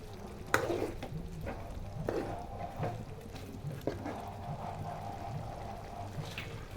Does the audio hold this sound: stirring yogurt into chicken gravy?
yes